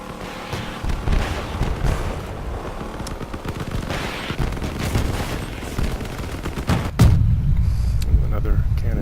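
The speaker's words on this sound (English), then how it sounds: "Another cannon gun." Heavy cannon fire from vehicle combat in the game Crossout, a dense run of booming shots and gunfire lasting throughout, with one sharp louder blast near the end; a voice talks over parts of it.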